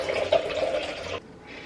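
Filtered water runs steadily into canning jars for pressure-canned turkey broth, a close hollow filling rush that cuts off abruptly partway through, leaving a quieter tail.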